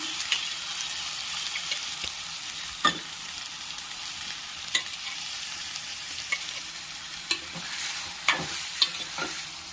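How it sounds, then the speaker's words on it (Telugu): Chicken pieces with fried ginger paste sizzle in hot oil in a pan for a curry, a steady close frying hiss broken by sharp scraping clicks of stirring every second or two. "అల్లం బాగా ఫ్రై అయిపోయిందండి ఇప్పుడు చికెన్ వేసేసుకున్నాము"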